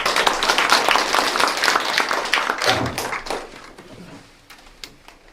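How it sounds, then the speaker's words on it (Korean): Audience applause at a youth entrepreneurs' association forum on e-commerce job creation in Dangjin, loud dense clapping from a large indoor crowd that fades over several seconds, leaving scattered individual claps near the end. "여러분 큰 박수 부탁드리겠습니다."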